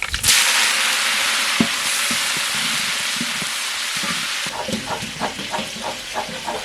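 Curry leaves hit hot oil with mustard seeds and chana dal, giving a loud, steady sizzling hiss that later breaks into sharp, irregular crackles and pops as the leaves fry.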